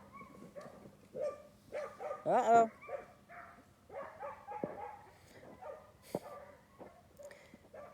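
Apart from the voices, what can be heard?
dogs barking while chasing a coyote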